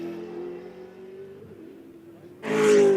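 A V8 Supercar in the 2006 Bathurst 1000 race runs at a steady engine drone, then roars in loud and close in the final half-second as the race leader passes.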